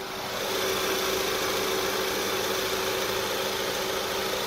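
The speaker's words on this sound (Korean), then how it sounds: "바로 엔진 소리 한번 들려드릴게요." A gasoline full-size SUV engine, a 2018 facelift model, idling steadily with a smooth, even hum and a faint low vibration, heard up close with no voices.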